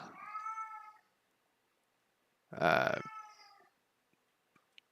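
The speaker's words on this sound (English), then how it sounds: "Oh my god, cat, you are flipping out." A pet cat meows loudly and insistently in two long, agitated cries separated by a pause, with a few faint clicks afterward; a voice speaks a single word briefly.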